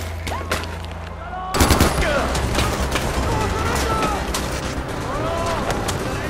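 Shotgun fire in Far Cry 4: after a quiet start, loud booming blasts break in and continue as dense, overlapping bursts of gunfire and crackling game effects.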